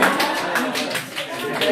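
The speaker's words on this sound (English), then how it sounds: "Why don't you clap for him?" A student group clapping together, a dense continuous patter of hands close by with some voices mixed in.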